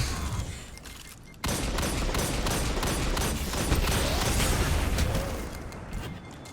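Rocket launcher blasts and stun weapon shots from Destiny 2 gunfire, with continuous dense booms and rapid firing that stay loud throughout, a brief lull near the start, and no talking.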